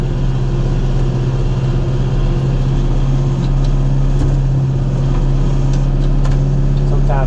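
A John Deere 5101 tractor with a shuttle shift runs steadily close by, its engine droning in a loud, constant rumble with no pauses.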